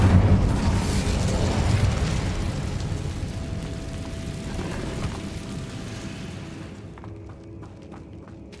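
A fiery Incendio spell bursts in Hogwarts Legacy, a loud broad explosive rush that rumbles and slowly fades over several seconds before cutting to near quiet.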